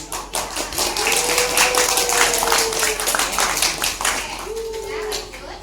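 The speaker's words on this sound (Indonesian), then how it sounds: "Beri tepuk tangan." A classroom of students claps together, brisk close hand claps layered into a lively burst, with voices speaking and calling out alongside.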